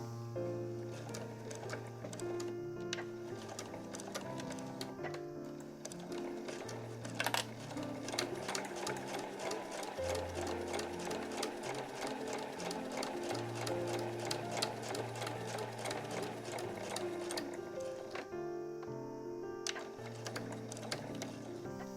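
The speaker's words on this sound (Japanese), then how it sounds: "そうしたらここの際の部分を縫います。" A sewing machine stitches close along the edge of folded tatami border fabric, running in a steady fast rapid ticking rhythm with brief pauses, close and clear with no talk.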